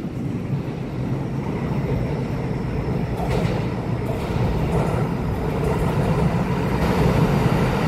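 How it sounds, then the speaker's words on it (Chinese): A silver-green EMU900 electric multiple unit train, a ten-car set on Taiwan's railway, rumbles past close by with a steady, loud rolling roar and occasional clanks from the wheels on the track. "有列车，有列车。"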